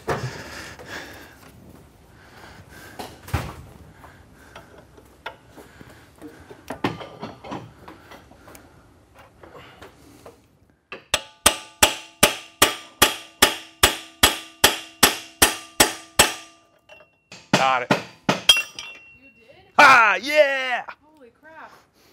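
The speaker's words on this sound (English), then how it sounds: "Don't I have a bigger hammer in here? Oh yeah, that's what I need," A 24-ounce hammer strikes a C7 Corvette Z06 spindle in a burst of about a dozen sharp, ringing metallic blows in quick steady rhythm, preceded by quieter clinks and rummaging and followed by a few more scattered hits.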